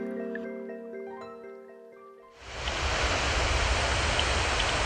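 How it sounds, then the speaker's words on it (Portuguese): Waterfall on the São Francisco river: a dense, steady roar of rushing water that swells in abruptly partway through, after soft tonal music, and then holds loud and unbroken to the end. "começamos a ouvir o barulho da cachoeira"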